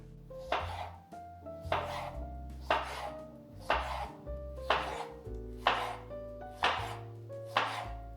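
A knife slices a cucumber into small rectangular pieces on a cutting board for a quinoa salad, with about eight crisp, evenly spaced chops over steady background music and no talking.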